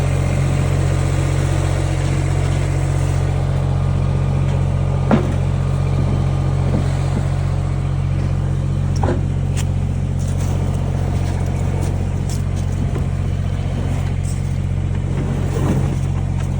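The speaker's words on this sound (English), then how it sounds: "I'm coming up here to get the tractor so I can get stuff moved around down there." A tractor engine runs steadily at idle for the whole stretch, a loud, even low rumble with a few faint knocks and clanks, no talking.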